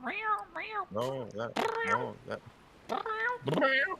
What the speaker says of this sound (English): Cat's here on my lap, and she just was talking a little something.